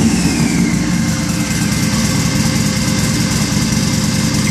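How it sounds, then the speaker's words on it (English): Buell XB motorcycle engine, just converted from DDFI-2 to DDFI-3 with a cam position sensor, idles close and loud in a steady, even chug throughout, no voices. "With a cam position sensor, and it's cranked up and running."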